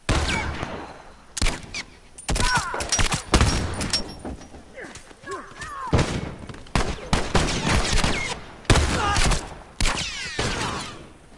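Game gunfire from The Last of Us, bursts of shots scattered in clusters across the stretch, fairly loud and close, with players talking over some of it.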